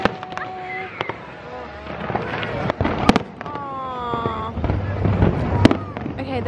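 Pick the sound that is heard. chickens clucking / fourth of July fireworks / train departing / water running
fourth of July fireworks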